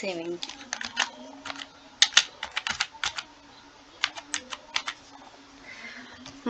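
Keys clatter on a computer keyboard while data is entered into an Excel spreadsheet, in quick irregular bursts of crisp clicks with brief pauses, close-up, and a voice is heard faintly.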